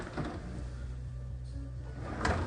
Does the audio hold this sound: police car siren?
no